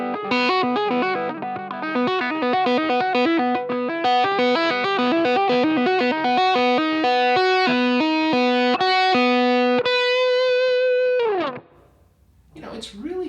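Gibson SG electric guitar with a tight, overdriven tone playing a steady run of single-note licks and sustained notes for about eleven seconds, loud and close, then letting a final note bend down and fade.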